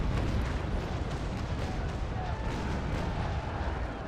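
Heavy ship cannon broadsides boom in Naval Action, a naval battle video game, with dense low rumbling blasts rolling together over several seconds and no talk.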